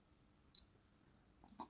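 A Casio W-221H digital watch gives one sharp, high electronic beep as its stopwatch button is pressed, followed by a faint click near the end.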